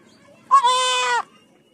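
One goat, recently treated with a village herbal remedy, gives a single drawn-out bleat lasting under a second, close and clear against a near-silent background.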